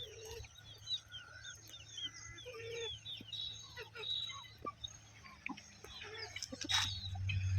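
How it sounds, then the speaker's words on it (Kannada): Country hens with chicks cluck softly and peep while feeding, with scattered chirps, pecking and small knocks at a low level, and a voice briefly in the background. "ತಾಯಿ ಕೋಳಿಗಳು ಮರಿ ಕೋಳಿಗಳಿಗೂ ಹೇಳ್ಕೊಡ್ತವೆ ಹಿಂಗೆ ತಿನ್ನೋದೆಲ್ಲ ಕಲಿಸ್ಕೊಡ್ತವೆ ನೋಡಿ"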